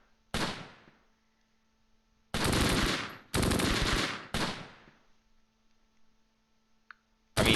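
Bursts of gunfire from the WWII tactical video game Close Combat: Gateway to Caen, set at Cheux in June 1944: one sharp loud volley, then three longer back-to-back loud bursts, fading into a low steady hum and another burst at the end.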